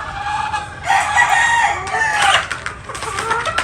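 Albany Kelso gamefowl chickens crowing and clucking close by, with several overlapping calls rising and falling across the stretch, no talking.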